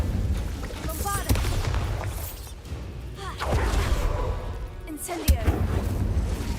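A Bombarda blast spell in Hogwarts Legacy, heard as sharp booming impacts and crackling explosive bursts amid ongoing combat effects, with a couple of loud hits standing out.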